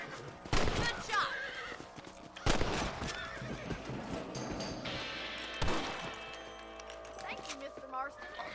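Horses whinny loudly several times amid hoof clip-clops and rustling movement in the video game Red Dead Redemption, with voices talking over parts of it.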